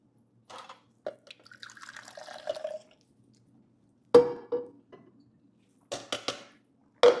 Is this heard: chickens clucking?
no